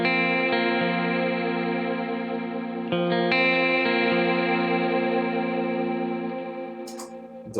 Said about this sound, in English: I'm also running a cloud verb on the big sky, which sounds like this.